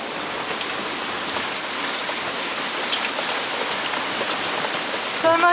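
Heavy rain pours steadily onto a sailboat moored at Port Stephens, a dense, even hiss of drops drumming on deck and cabin, loud and close throughout with no letup.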